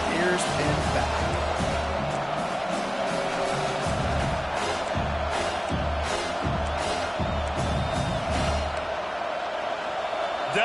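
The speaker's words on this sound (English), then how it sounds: "Decibels rising as the crowd gets behind this defense on 3rd down" A football stadium crowd roars steadily behind the defense on third down, a dense distant wall of cheering and whoops with a commentator talking over it.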